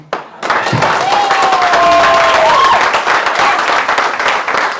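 A seminar audience bursts into loud, dense applause that starts abruptly and carries on steadily, with some voices in the crowd.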